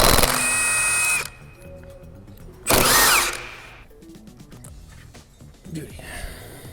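A power tool, likely an impact wrench, zips loose the lug nuts on an older car's wheels on a lift, with two loud bursts of about a second each separated by quieter shop noise and ratcheting clicks.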